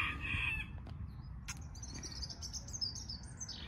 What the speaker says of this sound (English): Please excuse my cockerels